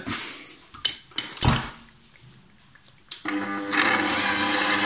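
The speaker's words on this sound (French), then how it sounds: "Et je vais démarrer le batteur en petite vitesse." An electric kitchen mixer is switched on at low speed for a milk mixture, starting after a few clicks and knocks and then settling into a steady, moderately loud whir.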